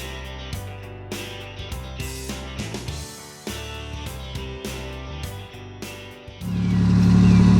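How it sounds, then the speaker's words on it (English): A third-generation car's engine runs unevenly with a skip, a rough, pulsing idle that rises into a louder, steadier roar near the end. "Let's get her running and take her for a ride."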